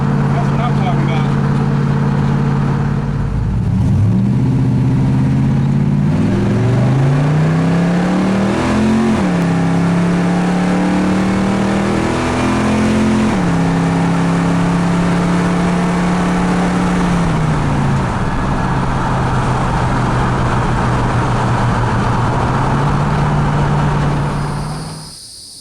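A car with a 200 4R automatic transmission cruises at about 60 mph and 2,200 RPM, its steady engine drone shifting pitch a few times under constant road and wind noise from inside the cabin.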